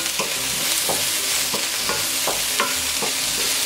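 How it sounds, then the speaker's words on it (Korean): Pork neck, onion, paprika and mushrooms stir-fry for a pilaf, with steady close sizzling and a utensil scraping the pan in a regular rhythm about every second, no voices. "양파가 반쯤 투명해졌으면 파프리카랑 버섯을 넣어서 볶아주세요"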